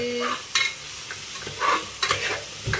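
A spoon scrapes and stirs egg biryani masala with turmeric powder in a pan, a few soft scraping strokes over a faint sizzle, close and without talk.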